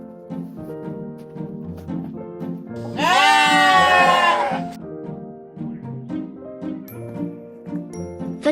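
A sheep gives one loud, wavering bleat lasting about two seconds, clear and close above a gentle repeating background melody.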